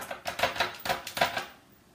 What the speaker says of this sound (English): Okay, so we're going to give that a good chopping.